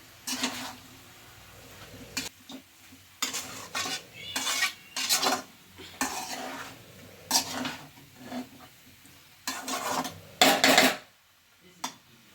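A spoon scrapes and clinks against a pan while stirring pumpkin palya, bursts of metallic scraping coming in an uneven rhythm with short pauses, close and fairly loud.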